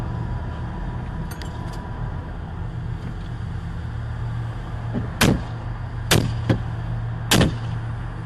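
A man strikes a car's side window with a lead pipe, captured from inside the car by a dashcam: three sharp, hard metallic impacts a second or so apart, loud and close over a low idling rumble, preceded by faint clinks.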